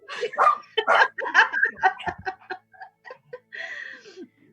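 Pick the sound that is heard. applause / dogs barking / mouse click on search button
dogs barking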